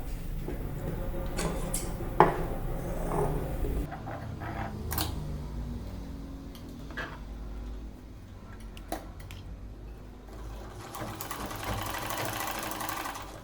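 A sewing machine stitching fabric for an A-line princess-cut kurta, with quiet bursts of running stitches interrupted by clicks and handling knocks, fairly faint and close.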